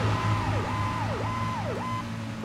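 An ambulance siren in the video game Arma 3 wails in a repeating rising-and-dipping pattern, three or four even cycles over a low engine rumble, fairly close and steady.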